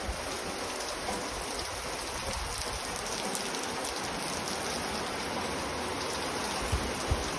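Heavy rain pours down on a cotton field, a dense continuous roar of falling water, steady and close throughout with no voices.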